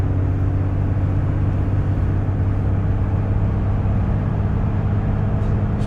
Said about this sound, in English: You can kind of listen to the engine work.